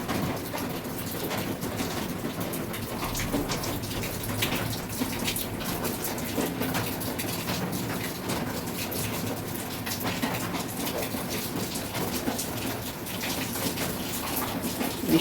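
Steady rain falling throughout, a dense, even hiss of drops close by that runs unbroken for the whole stretch, with no talk.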